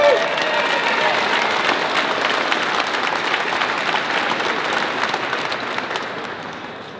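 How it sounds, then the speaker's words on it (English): A large outdoor rally crowd at a Second Amendment event in Harrisburg, Pennsylvania, applauding loudly with dense clapping and cheering, a voice briefly audible at the start, then tapering off toward the end. "Give him a big hand of applause."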